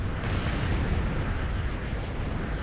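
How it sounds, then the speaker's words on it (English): A nuclear missile blast in a real-time strategy battle game, heard as a steady, roaring, rumbling wash of explosion noise that holds loud throughout. "So here you go, the nuke is away. First shot goes off."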